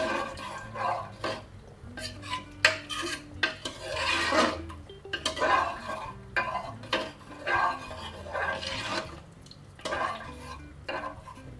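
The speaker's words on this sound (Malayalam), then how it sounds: "നമുക്ക് ഇളക്കാം." A spoon stirs olan curry in a pot for an Onam sadya, with repeated close scraping and clinking against the metal in an irregular rhythm and a faint low hum beneath.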